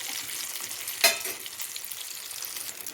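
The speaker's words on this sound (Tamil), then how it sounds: "இதேமாரியே நான் வந்து எல்லா மாவையும் பொரிச்சு எடுத்துகிட்டு உங்கள்கிட்ட காமிக்கிறேன்" Batter fritters deep-frying in hot oil give a steady, soft sizzle with one brief louder crackle of spattering, no voices.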